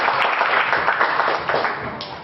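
Audience applause at a tech meetup in Indonesia, a brief burst of clapping from the crowd that keeps going for about two seconds at a moderate level.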